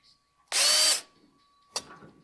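A power drill fitted with a drill bit spins up in one loud half-second burst, then a brief second whir follows after a pause, close and alone.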